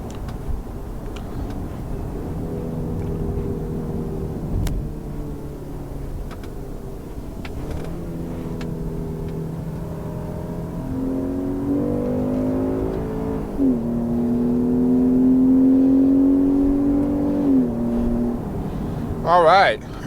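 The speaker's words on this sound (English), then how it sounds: "I'm coming up to some corners here, do some downshifts." A Jeep Grand Cherokee WK Limited 4WD engine rises and falls in pitch as it downshifts into corners, with a steady interior drone, a couple of brief revs near the end, and speech mixed in at times.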